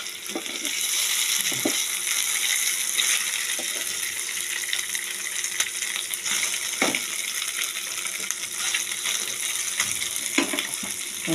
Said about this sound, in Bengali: তেল বসিয়েছি কড়াইতে। এবারে মাছটা ভাজা বসিয়েছি।